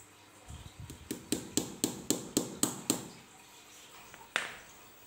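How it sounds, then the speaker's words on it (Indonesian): About ten quiet, evenly spaced hammer taps driving nails into plywood in a steady rhythm, then a pause and one final knock. "Ini tinggal kita paku saja, disesuaikan jaraknya nanti buat lubangnya ya."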